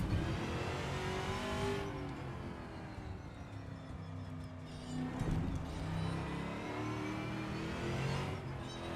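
A VRC TA2 Mustang V8 race car in Assetto Corsa growls through repeated upshifts, the engine note climbing, dropping and climbing again, with occasional tire noise and no talk.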